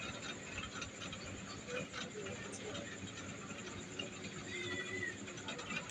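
Panch phoron and dried chillies sizzling in hot oil in a home kitchen: a steady, soft hiss and crackle that runs throughout at an even level, with some talk over it.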